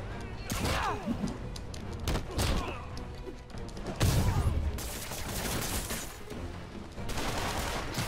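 Dense gunfire in Marvel's Spider-Man on PS4, rapid overlapping shots and impacts in an uneven volley, loud and close, with thuds and crashes mixed in.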